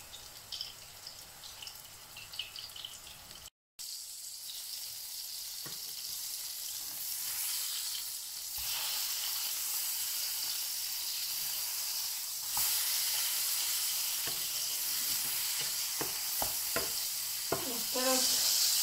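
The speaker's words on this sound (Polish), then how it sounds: "I teraz smażymy." Hamburger patties sizzling in a hot pan, a steady hiss that grows louder partway through, with occasional scraping and clinks from a utensil.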